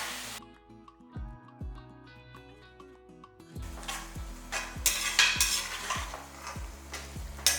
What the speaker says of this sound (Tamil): தயிர் எல்லாம் ஒன்றா சேர்த்து நல்லா வதக்கிக்கலாம்